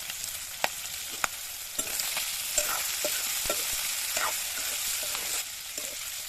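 Potatoes frying in a pan, a soft continuous sizzle broken by occasional sharp clicks and taps of a stirring utensil, close and fairly quiet, with no one talking.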